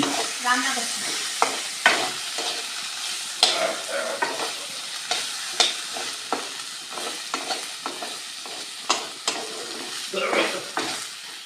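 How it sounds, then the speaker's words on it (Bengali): Rice cooking in a pot, with irregular scraping and clicking stirring strokes over a faint bubbling sizzle, close and moderately quiet. "ভাত হচ্ছে, এখানে ভাত। রান্না করছি।"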